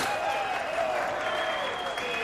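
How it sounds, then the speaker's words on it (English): Crowd at a World Poker Tour Party Poker Millions tournament breaks into dense, steady applause and cheering, a brief loud burst of clapping with a faint high whistle running through it. "The crowd is cheering him."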